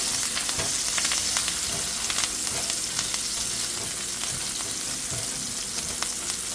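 Onion, herbs and spices fry in a little oil in a pan, giving a steady, close, loud sizzle with crackling pops and occasional stirring scrapes throughout.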